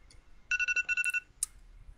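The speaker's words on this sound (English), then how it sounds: "That was the alarm going off saying it's been a whole hour." A short electronic alarm chirps in a quick run of about eight bright beeps, followed by a single higher beep, in a quiet room during a podcast.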